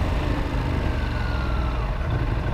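A 2016 Ducati Monster 821 on its stock exhaust, ridden along a wooded road, gives a steady, loud engine drone under continuous wind rush, with no clear gear changes.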